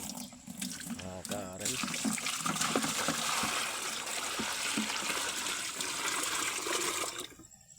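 Water sprayed in a steady hissing rush that runs for several seconds before cutting off near the end, with a brief spoken voice at the start.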